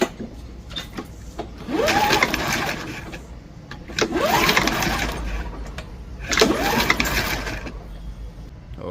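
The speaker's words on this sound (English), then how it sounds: "So let's go ahead and pull the cord and we'll see if we have better spark." Three pulls on the starter cord of a Toro 22-inch Recycler lawn mower that won't start, each a rising, ratcheting whir lasting about a second or two, close and loud, with pauses between and no talk.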